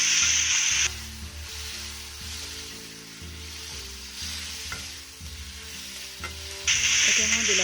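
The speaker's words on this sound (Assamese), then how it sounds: "মই আকৌ ভালদৰে লৰাই ল'ম" Tomatoes fried with salt and turmeric are stirred in a pan for a fish curry, giving a continuous close sizzle broken by scraping stirring strokes, with louder bursts of hissing at the start and end.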